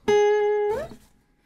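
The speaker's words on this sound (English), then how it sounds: "Sliding out upwards sounds like this" A guitar note rings steadily, then slides upward off the string with a short rising glide and fades out quickly, heard alone.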